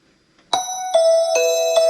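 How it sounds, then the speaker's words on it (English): Bright, ringing bell tones in a Christmas music track strike four times in an even, descending pattern, each note sustaining clearly over near silence. "There's a bell sound that is really cool."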